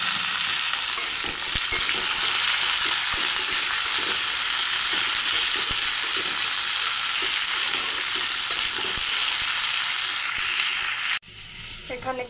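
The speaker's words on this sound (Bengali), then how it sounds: "এখন কেটে রাখা সিম দিয়ে দেব।" Chopped flat beans fry in a pan with potatoes, giving a loud, steady sizzle with the scrape of stirring. The frying stops abruptly near the end, leaving quieter clatter.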